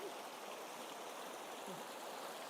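Flowing creek water, a steady broad rush and trickle close by, even and continuous without pauses, alone with no voices.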